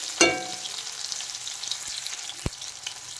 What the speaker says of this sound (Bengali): এখন আমি উচ্ছেগুলো ভেজে নেব।